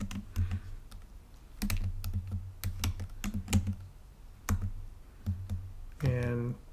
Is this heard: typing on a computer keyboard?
yes